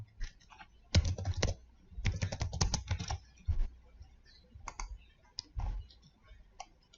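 Close computer keyboard typing comes in quick bursts of clicky keystrokes separated by short pauses, with no talking over it.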